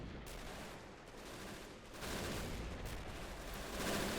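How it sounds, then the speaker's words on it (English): Sustained volley of 20mm anti-aircraft guns in the Men of War Assault game, heard as a dense, continuous wash of rapid gunfire and battle noise with no clear gaps, growing slightly louder toward the end. "There's a few 20mm guns still standing, firing back at the attacking Americans"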